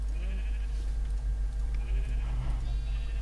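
Sheep in the video game Minecraft bleat several times in wavering calls over a constant low background hum, moderately loud and with no talking.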